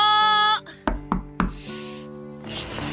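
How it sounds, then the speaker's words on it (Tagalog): Three sharp knocks on a door sound close together in a dark, quiet scene, breaking off a sustained musical tone and followed by low ambience. "Sino kaya yung kumakatok sa labas?"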